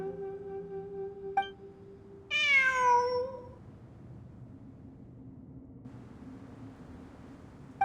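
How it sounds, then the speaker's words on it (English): In a video game, a single clear cat meow rises and falls over steady ambient hum, mid-distance, with no voices. "I'm not hearing things. It really is a cat."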